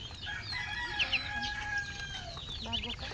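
Pet chickens cluck and squawk in short bursts while being fed, joined by a brief high crow-like call, with a faint voice talking in the background of a quiet outdoor yard.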